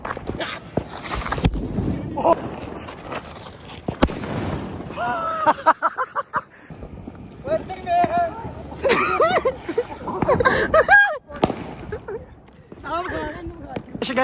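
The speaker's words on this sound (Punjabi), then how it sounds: "ਹੁਣ ਅਸਲੀ ਬੰਬ ਵੇਖੀ" Diwali firecrackers and fireworks go off in Amritsar, with sharp bangs and pops scattered through the scene. People talk and shout excitedly close by between the blasts.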